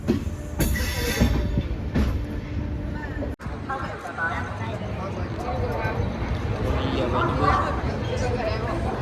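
A train rumbles and clatters steadily through Ajmer railway station, wheels and carriages droning loudly, with a busy crowd murmuring underneath.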